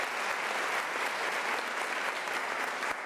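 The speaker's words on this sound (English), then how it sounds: "Another round of applause," Steady, dense applause from a large audience at a university spring graduation ceremony, a continuous wash of many hands clapping with no voices, holding evenly throughout.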